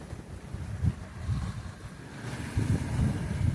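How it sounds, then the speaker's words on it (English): Steady wind blowing across a sailboat under way at sea on a long passage, a continuous low rushing roar with gusty swells and faint water wash, no voices. "The wind's blowing good."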